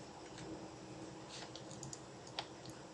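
Fast, light typing on a computer keyboard as 'localhost' is entered into a web browser: a quiet, steady patter of key clicks with a few sharper taps near the end, heard alone without talk.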